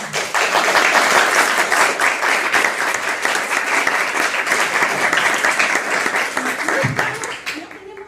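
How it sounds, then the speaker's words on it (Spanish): Sustained audience applause at a museums and autism event opening, loud and dense from the start, thinning toward the end as a voice briefly emerges. "Yo quiero pedir un aplauso especial"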